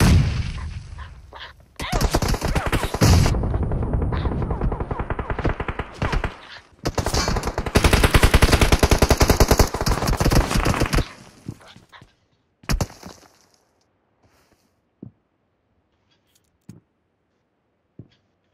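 Loud, rapid bursts of automatic gunfire in the PUBG Mobile video game rattle for about twelve seconds in dense volleys with brief gaps, then give way to a few scattered isolated shots and clicks in near quiet.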